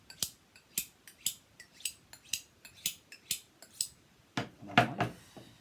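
A knife is sharpened with about ten quick, evenly spaced strokes, each a short bright scrape close by, ending in a heavier, longer rasp.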